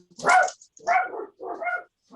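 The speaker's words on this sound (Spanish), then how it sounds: "mi perrito está muy bravo ahorita, déjenme calmarlo" A small dog barks angrily in three quick, close bursts, each a harsh, snarling bark separated by short pauses, loud and alone with no talk.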